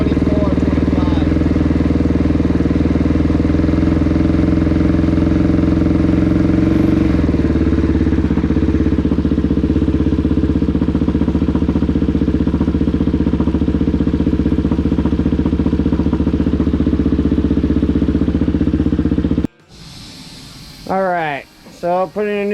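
Suzuki DR-Z motorcycle engine with a newly installed motor idles steadily and loud for about nineteen seconds, with a brief dip in pitch partway, then cuts off abruptly and a person talks.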